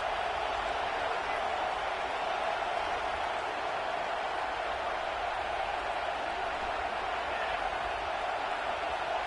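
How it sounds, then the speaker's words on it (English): A stadium crowd roars continuously in a college football video game, Florida versus Tennessee, a dense wash of cheering voices at steady volume throughout. "Listen to this crowd just shaking the girders of this place, trying to help their defense."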